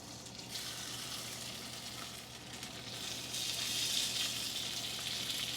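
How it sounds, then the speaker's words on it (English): Scrapple pan fries in a little oil in a cast iron skillet, giving a steady, fairly quiet bright sizzle that swells slightly louder toward the end, with no one speaking. "We're going to pan fry it and then eat it."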